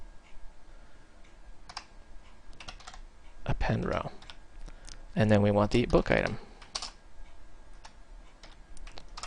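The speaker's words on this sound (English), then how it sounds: "that was a lot of typing" Rapid clicking of a computer keyboard runs throughout, close and fairly quiet, with bursts of typing between and under a man's spoken words.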